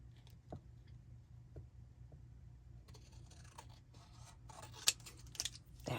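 Sharp little snips of scissors trimming paper scraps around cut-out butterflies come in scattered pairs against a quiet room hum, a quicker cluster of close, crisp cuts near the end.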